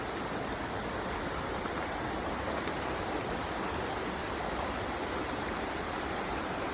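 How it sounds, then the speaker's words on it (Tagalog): A river stream flowing on the way to Latag falls gives off a constant, even rushing wash with no voices and no breaks. "Pang ilang tawid na namin to sa ilog."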